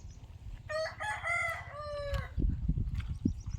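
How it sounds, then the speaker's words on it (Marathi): A rooster crows loudly and close by at a poultry farm, one long drawn-out call, followed by a cluster of hens clucking and scratching nearby. "ह्या कोंबड्यांना बघा, कोंबड्यांना पण सांगायला नाही लागत."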